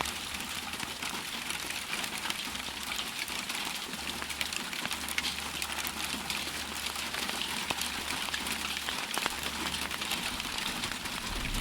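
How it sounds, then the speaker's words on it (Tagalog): Ice rain falling steadily in cold spring weather, a dense continuous hiss of pellets and drops on surfaces outdoors, with a low engine-like rumble underneath throughout. "It's still cold and ice raining here at the spring season."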